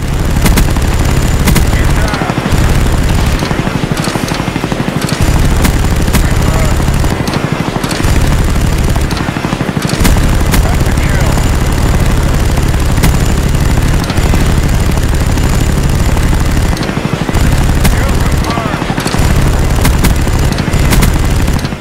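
Chopper gunner helicopter firing in Call of Duty: Black Ops, loud continuous bursts of rapid gunfire with booming impacts and helicopter rotor drone, brief gaps between volleys, a voice talking over it.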